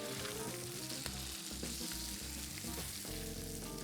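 Skate wings fry in butter in a pan with a loud, continuous sizzle and crackle, punctuated by soft scraping and stirring sounds close by.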